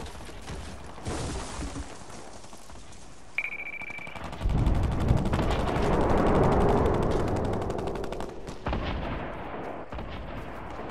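Gunfire in a Fortnite 20 vs 20 match: loud, dense volleys of shots that start sparse, then build after a sharp burst into a sustained roar of overlapping rapid fire before easing slightly toward the end.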